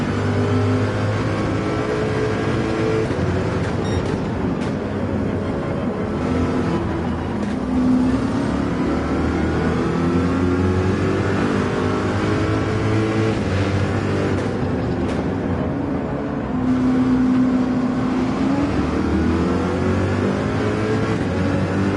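The Corvette race car in Gran Turismo 7, racing in a manufacturers' series event: a loud, continuous engine roar that climbs and falls in pitch through repeated gear changes, with no voices.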